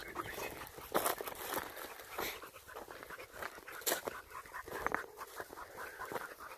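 Dogs pant and sniff close by while hunting for a shed deer antler outdoors, with rustling movement through brush, faint whimpers and scattered footsteps, moderately quiet and without talk.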